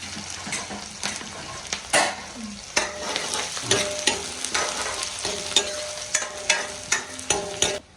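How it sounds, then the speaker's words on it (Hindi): Chopped onion and chilli fry in a pan, a steady sizzle broken by repeated scraping strokes of a spoon against the metal, close and fairly loud with no talking. "प्याज भून रहा है और इसमें थोड़ा चरचरा बरवा होगा, तो इसलिए कटी हुई मिर्च भी ठोक देते हैं इसमें।"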